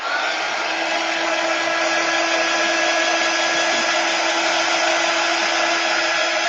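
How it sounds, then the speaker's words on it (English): A hair dryer dries a chalk paste transfer on a double-sided A-frame sign, blowing a loud, steady, continuous whoosh with a constant hum for the whole stretch and no talking. "And I'm going to dry it just a little bit."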